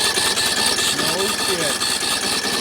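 John Deere L100 lawn tractor engine running after starting, a loud, close, steady rough idle with a rhythmic pulsing beat, with people talking over it.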